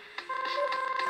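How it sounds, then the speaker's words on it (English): Phone dialing tones in the Friday Night Funkin' Mid-Fight Masses mod: a steady electronic ringing tone with a pulsing, repeated beat, loud and close, with no talking over it. "she's on the phone."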